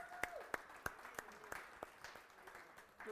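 A church congregation claps in steady rhythm to acclaim the Lord, the hand claps faint and distant with a soft murmur of voices underneath.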